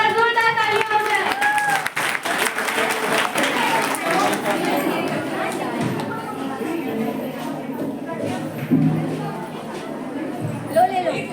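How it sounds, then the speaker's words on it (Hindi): Applause for Nikita, a student, at a farewell for intermediate and high school girls at Saket Inter College: a crowd claps in a steady patter, loudest at the start, while voices talk over it. "मिस रेगुलर निकिता दीदी एक बार जोरदार तालियां हो जाए"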